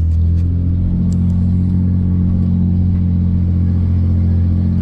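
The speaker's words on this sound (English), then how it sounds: "Going to first gear." A car engine rumbles loud and steady at close range as the driver shifts into first gear, a continuous low drone with a faint rise, no talking heard.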